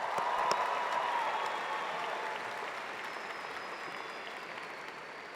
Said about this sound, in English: Let's give our graduates so far one more round of applause.